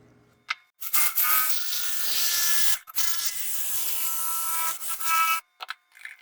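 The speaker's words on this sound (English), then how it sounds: "just sand it up" Bursts of sanding on a shield-shaped anvil sign in a workshop, loud abrasive rasping strokes of a few seconds each, broken by short pauses and ending in brief light scrapes.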